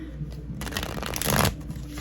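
Tarot cards being shuffled by hand, a brief crisp riffling flutter, close and fairly quiet, with no talking over it.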